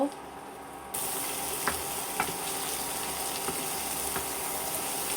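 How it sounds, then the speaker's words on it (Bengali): Onions frying in mustard oil in a pan, a steady broadband sizzle that rises after a brief quieter start, with a few faint clinks or stirs over the continuous hiss. "পেঁয়াজগুলো ভেজে নিব"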